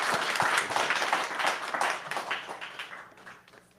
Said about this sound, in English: let's give the speakers a round of applause